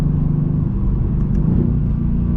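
A 2019 Mercedes-AMG GT R sports car cruising smoothly, a low steady engine rumble heard from inside the cabin, even in level with no voices over it.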